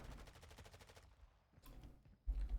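Rapid bursts of automatic gunfire crackle from a Call of Duty match in a collegiate esports tournament, a quick rattling volley followed by scattered single shots, all fairly faint.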